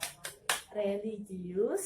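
A classroom of children claps out a rhythmic chant: three sharp, evenly spaced claps ring out close by, and then a voice speaks over the pause.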